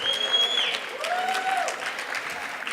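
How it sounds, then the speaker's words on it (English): An audience at a school district Martin Luther King celebration applauds singers, instrument players and MCs, with steady moderate clapping and a few voices over it, fairly close. "How about another round of applause for the singers, those playing instruments, also the MCs."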